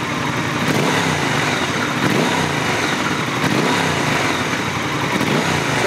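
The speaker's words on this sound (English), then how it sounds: "So that's the difference in sound between the 1200 Speed Twin against the Scrambler 1200." Triumph Scrambler 1200 and Speed Twin 1200 parallel-twin motorcycle engines running, a steady loud rumbling idle with slight revs throughout, close up with no talking.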